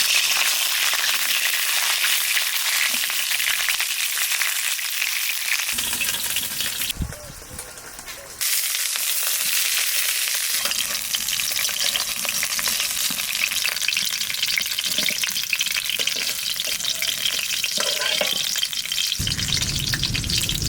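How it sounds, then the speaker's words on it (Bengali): Cauliflower fries in a pan for vegetable khichuri, making a loud, continuous close-up sizzle with stirring. The sizzle dips briefly partway through before it resumes at full strength. "কপি তো বাজা হয়ে গেল"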